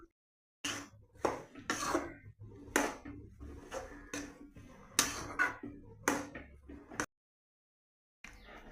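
Potato cutlet mixture being mixed in a bowl, giving a series of close, irregular scraping and clattering bursts of utensil against the bowl, with short pauses between strokes and a quiet gap near the end.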